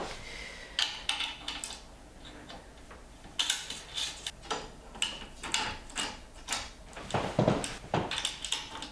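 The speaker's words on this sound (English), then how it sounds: "Let's get the bottom bit bolted on first. Get the spanner back out again." A spanner ratchets and clicks while the parts of an A0 iDraw V2 pen plotter are bolted together, giving close, irregular bursts of metallic ticking with short pauses between them.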